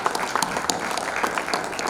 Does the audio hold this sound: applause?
yes